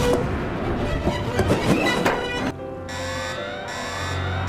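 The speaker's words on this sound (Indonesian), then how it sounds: "Alarm berbunyi seperti ada penyusupan." An electronic intruder alarm starts up partway through, a steady tonal wail pulsing on and off, following a stretch of busy mixed noise.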